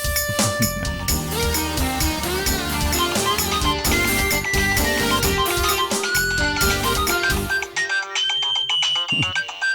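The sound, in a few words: mobile phone ringtone for an incoming call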